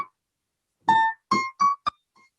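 Piano playing a bebop chromatic approach figure: four or five quick, bright notes in a short run after a brief gap, fairly clear and alone.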